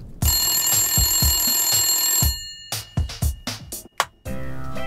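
A telephone rings loudly in rapid repeated electronic bursts, then stops and gives way to a few sharp clicks and a brief clatter, with no talk over it.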